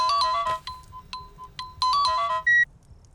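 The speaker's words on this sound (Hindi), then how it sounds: "माया का फोन" A mobile phone ringtone plays loud and close, a bright repeating electronic melody in short phrases that ends on a final held tone.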